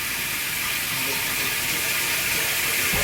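Water pours steadily into a bucket, being filled to mix type S premix mortar for blocklaying, a constant close rushing hiss with no talk.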